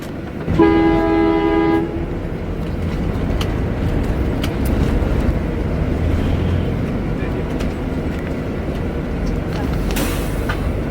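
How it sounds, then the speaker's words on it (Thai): A loud, sustained train horn blares for about a second and a half, echoing inside an ice-covered mountain tunnel, followed by the steady rumble of a train rolling through. "เขาให้สัญญาณแตรก็แสดงว่าให้รถข้างนอกหยุดรอนะ"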